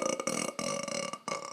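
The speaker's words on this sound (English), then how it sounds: "I absolutely forbid burping in this household." A long, loud, gurgling burp rolls on for about a second and a half, broken by brief choppy gaps, with no talk over it.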